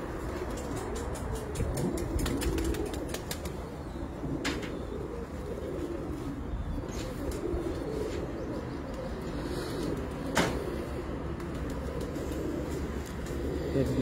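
Pigeons coo softly at a breeder's loft, a low steady murmur of calls under ongoing conversation and faint background chirps.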